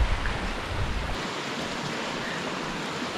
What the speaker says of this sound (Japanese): このね、川のせせらぎを聞きながら歩けるんですよ。